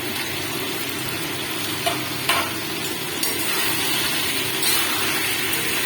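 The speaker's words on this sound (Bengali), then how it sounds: "এবার এর মধ্যে আমি ভেজে রাখা আলুগুলো দিয়ে দেবো।" Fried potatoes are stirred into a sizzling chicken curry in a pan, giving a steady frying hiss with a few brief scraping clatters along the way.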